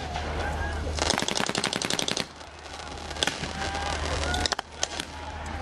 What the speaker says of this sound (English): US soldier there using a light machine gun